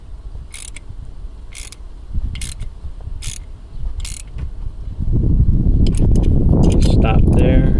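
A Capri Tools dual-head brake flare tool is cranked by hand until it stops. Sharp ratcheting clicks repeat roughly once a second, then a faster cluster of clicks and creaks comes near the end while someone talks.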